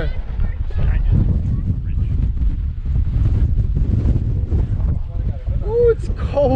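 Steady wind buffeting the microphone while riding the Wilds in New Hampshire, a continuous low roar and rumble running through the whole stretch, with a brief voice near the end.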